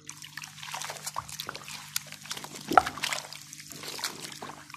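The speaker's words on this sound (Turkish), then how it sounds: "bezimizi bir yıkayalım." A cleaning cloth used on yellowed PVC window frames gets rinsed in water, giving close, soft trickling, dribbling and sloshing with a few splashy peaks over a faint steady hum.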